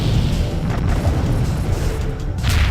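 Torpedo explosions in the FreeSpace 2 space-combat game, heard as a continuous deep, rumbling boom with low roaring bursts that hold loud and steady for under three seconds, with no speech.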